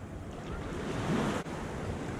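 Ocean waves wash against a swimmer at the beach, a continuous close surf roar with wind noise buffeting the microphone, and no voices.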